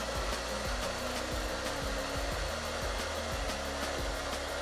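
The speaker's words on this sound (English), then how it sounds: "Blow dry, my cord ain't long enough, so I gotta scooch this way." A hair dryer blows continuously at close range while hair is blow-dried smooth for a wig install, a steady loud whoosh with faint rhythmic thumps underneath and no talking.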